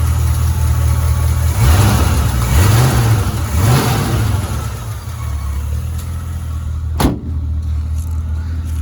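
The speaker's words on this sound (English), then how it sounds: "But side exit exhaust there." A 1973 Ford Gran Torino V8 revs through side exit exhaust, a loud steady engine roar with several rising throttle blips and a sharp pop near the end, recorded close with no talking.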